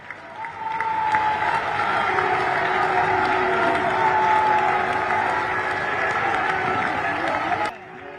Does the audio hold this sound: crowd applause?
yes